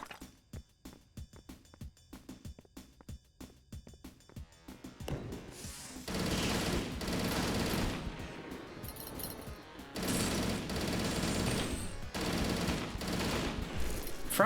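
Rapid automatic gunfire in a video game, first a string of sharp separate shots, then long sustained bursts that roar loud and continuous, broken by short pauses.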